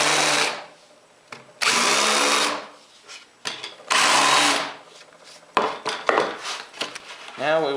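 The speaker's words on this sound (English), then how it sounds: "I can just use a regular old countersink bit to countersink the holes" A power drill with a countersink bit whines in several loud bursts, each a few seconds long and separated by short pauses, as it countersinks holes for machine screws while building a panel cutting jig.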